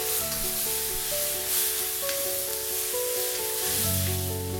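Chopped chicken fries in a pan with a steady, even sizzle, while sustained tones hum underneath.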